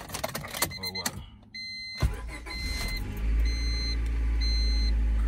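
A Honda Civic, a sabotaged auction car, is cranked over briefly and then fires up into a steady low idle that settles in close by. Soft electronic beeps chime over the running engine.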